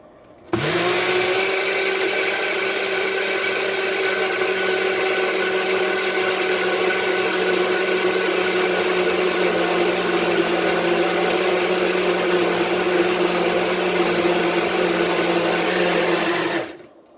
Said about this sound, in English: Now we're going to blend it one more time.